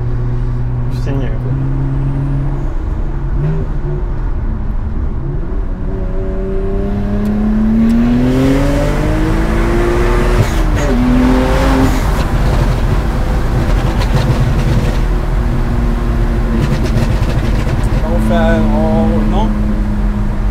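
Stage 3 BMW 135i accelerates hard, its engine note climbing through the revs with a gear change and a loud, sustained drone heard from inside the cabin while people talk over it.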